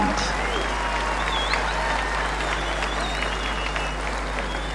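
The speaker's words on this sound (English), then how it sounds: "let's give them a warm round of applause as they leave the stadium" Warm, sustained applause from a stadium crowd at the 2003 South Pacific Games closing ceremony in Fiji, steady and broad with faint whistles and a low hum underneath.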